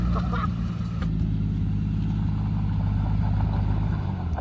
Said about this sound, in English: Going over 100 miles an hour.